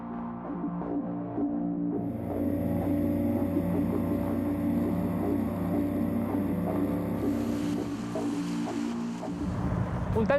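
A Zar ZF1 tender boat with a 40 hp Mercury outboard engine runs close by, its motor giving a steady, throbbing hum over water. The pitch shifts toward the end.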